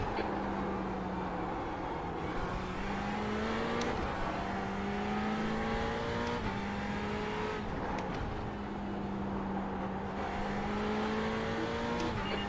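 Race car engine at sustained high revs during a VLN endurance race at the Nürburgring, closing on a slower class car; a steady, loud, droning roar with rising and falling pitch through gear changes, heard continuously without talk.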